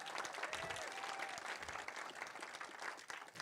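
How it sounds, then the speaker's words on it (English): Audience applause for a speaker at a sustainable urban development seminar in Eswatini: dense, continuous clapping from a sizable crowd, fairly faint, without a break. "Please give Mr. Land a bigger round of applause."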